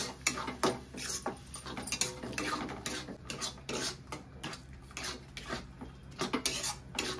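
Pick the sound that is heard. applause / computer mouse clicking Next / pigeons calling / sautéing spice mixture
sautéing spice mixture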